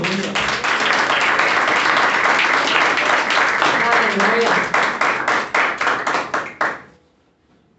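A church congregation in a Portuguese-speaking service gives loud, dense applause with a voice calling out over it. The clapping turns into separate rhythmic claps near the end and stops abruptly after about seven seconds.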